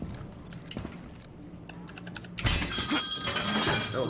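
A telephone ringing during a Rainbow Six Siege live stream, a loud bright electronic ring that starts abruptly and continues steadily, following scattered keyboard clicks.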